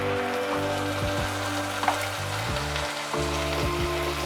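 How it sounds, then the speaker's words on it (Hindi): Ginger-garlic paste hits onions frying in ghee in a pan for a banana flower curry, giving a steady, close, loud sizzle with occasional soft scraping stirs and small pops throughout. "अब हम अदरक लहसुन का पेस्ट जो लिए थे उसको डालेंगे।"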